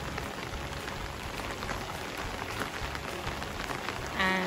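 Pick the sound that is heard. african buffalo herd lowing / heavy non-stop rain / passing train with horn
heavy non-stop rain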